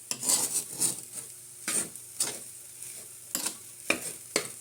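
Garlic rice stirred and sautéing in butter in a pan at home, with soft sizzling under repeated scraping strokes of a utensil against the pan, close and steady.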